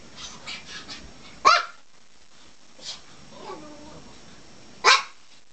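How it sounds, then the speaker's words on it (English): A dog barks in two sharp, loud bursts a few seconds apart, with soft snuffling and faint yips in between. "What are you barking at?"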